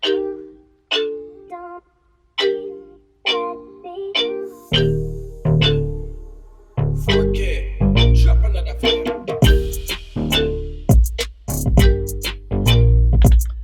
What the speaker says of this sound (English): It's a piano, but I put a filter over it, low pass filter.